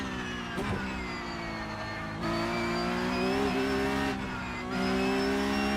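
Porsche Cup 992.2 race car in the iRacing simulator, its engine howling at full throttle through rising gears, loud and continuous with tonal whine and brief shift dips.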